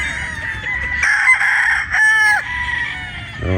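A Sweater Boston gamefowl rooster with a pea comb crows close by, two long strained calls with a rising and falling tone, ending in a short throaty note, with no talk over it.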